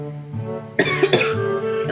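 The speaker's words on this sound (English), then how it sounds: "Get a little cough out." A person coughs sharply a few times in quick succession, close and loud, amid a steady tonal hum in the background.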